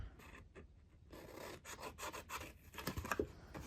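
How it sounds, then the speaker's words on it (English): A papercraft sheet trimmed along score lines, with soft close rasping and scratchy cutting strokes in short uneven bursts, faint overall and with no voices. "I'm just going to follow these score lines and trim this out."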